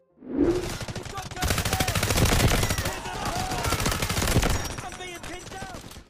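AKS-74 assault rifle fire in the Delta Force Mobile shooter game, long loud bursts of rapid automatic shots with brief pauses, up close and dominating.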